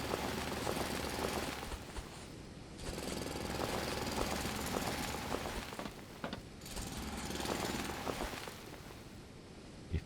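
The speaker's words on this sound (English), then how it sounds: "let's drill this out a little bit" Heavy mechanical drilling from the factory-building game Foundry, a loud continuous grinding rattle that runs steadily with brief dips, no voices over it.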